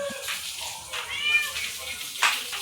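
Several cats meow close by, short overlapping cries over a soft background, with a louder meow near the end.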